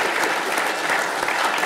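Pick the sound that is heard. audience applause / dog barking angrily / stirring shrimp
audience applause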